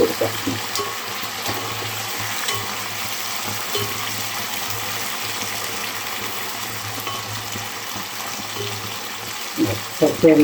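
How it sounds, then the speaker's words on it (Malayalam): Jackfruit being stirred in a pan with salt water poured in while cooking, giving a steady close sizzle with soft scraping and stirring throughout, briefly louder near the end. "ഇത്തിരി ഉപ്പ് നീരും കൂടി ഒഴിച്ചു കൊടുക്കാം ഇളക്കി"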